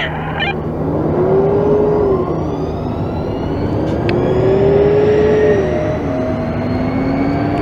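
A Toyota and Kenworth Class 8 hydrogen fuel cell electric truck pulls away, its motor whine sweeping up and down in pitch over a loud, steady roar that lasts the whole stretch.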